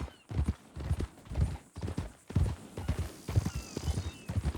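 Horse hooves in Red Dead Redemption 2 clip-clop in a steady trotting rhythm, close and clear, with a faint synthetic tone ringing in the background.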